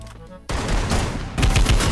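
Rapid bursts of Free Fire gunfire erupt after a brief quiet moment, loud and dense, with a second volley kicking in near the end.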